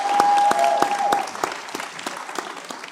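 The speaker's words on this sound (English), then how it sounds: "Y'all give him a huge round of applause" Crowd applause for Mr. J.T. Johnson at a Black History celebration event: a steady patter of many hands clapping, moderately loud at first and gradually thinning out, with a brief tonal ring near the start.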